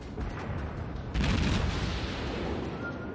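Naval guns firing in World of Warships, a dense rumbling barrage of booms that swells sharply partway through and stays loud and continuous, with no one talking.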